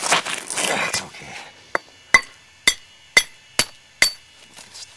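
A hammer knaps a large basalt biface, a burst of scraping and grinding followed by six sharp, ringing stone strikes spaced about half a second apart, close and distinct against quiet.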